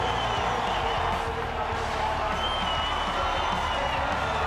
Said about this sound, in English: And the crowd they are just really responding to this.